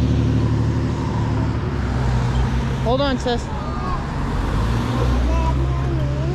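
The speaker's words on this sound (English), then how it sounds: "There's too many cars, okay?" Several cars pass along a road near a ski area, a continuous close traffic rumble while a voice talks briefly partway through.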